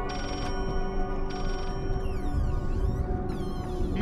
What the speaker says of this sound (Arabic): في تليفون بيرن.